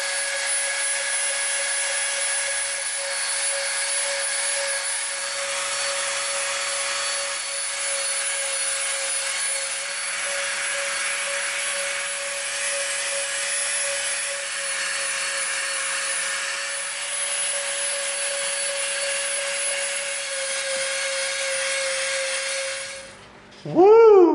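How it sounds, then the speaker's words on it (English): Dremel rotary tool rounding the edges of EVA foam, a steady high-pitched whirring hum held close and loud for over twenty seconds, then winding down at the end. "now we're gonna bust out the Dremel. We've got our dust mask on. We're gonna round all these edges off."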